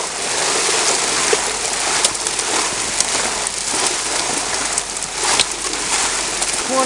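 A homemade gold trommel runs steadily while processing buckets of dirt, giving a continuous broadband rushing and rattling wash of gravel and water, loud and close, with scattered sharper clicks of stones throughout and no talking.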